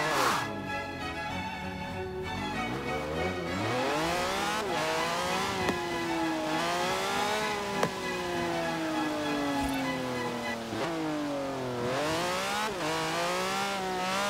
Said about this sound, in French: Ça, ça me permettra de tester un peu cette voiture.